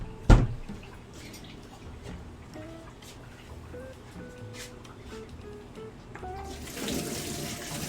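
Boiled potatoes strained over a sink: a sharp clunk from the pan, then soft trickling and dripping water that swells into a louder rushing pour near the end.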